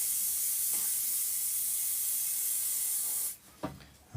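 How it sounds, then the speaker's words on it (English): Hairspray hisses from an aerosol can in one steady, loud burst over model foliage on a scale French chateau, running about three seconds before stopping, followed by a couple of faint handling knocks. "give that a good coating of hairspray"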